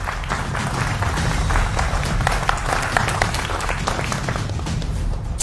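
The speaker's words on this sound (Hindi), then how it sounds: "तो जोरदार तालियां हमारे तमाम मेहमानों के लिए" A studio audience at a televised Hindi political debate gives the guests a burst of hearty applause, the close, continuous clapping loud and steady throughout.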